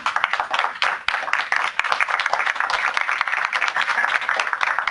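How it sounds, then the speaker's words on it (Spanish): Audience at a medical conference on diabetes applauding a man named Leonel, a steady, fairly close, dense patter of clapping lasting the whole stretch with no speech over it. "Un buen aplauso para él."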